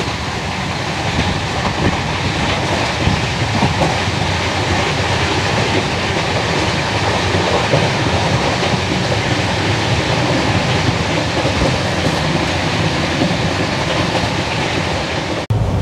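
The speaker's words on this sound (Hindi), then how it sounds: "यहाँ पे हमारी ट्रेन अभी स्लो से स्किप कर रही है हिंडौन सिटी को" The Rajdhani Express rolls slowly past Hindaun City station, its coaches giving off a loud, steady rumble and rhythmic clatter of wheels on track, heard from on board with no break.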